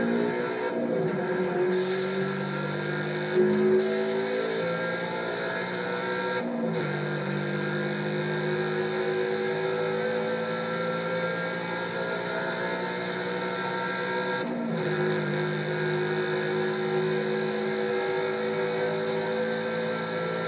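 Toyota GR86, GR Supra and older 86 race in Forza Horizon 5, engines droning steadily at high revs with brief dips at gear shifts, loud and continuous, no talking.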